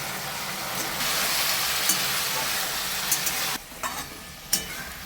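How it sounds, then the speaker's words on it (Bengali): Fried paneer is stirred into a sizzling chili sauce in a pan. A steady close hiss and sizzle carries occasional clinks and scrapes, then briefly drops quieter near the end. "এবার ভাজা পনিরগুলো দিয়ে দিচ্ছি।"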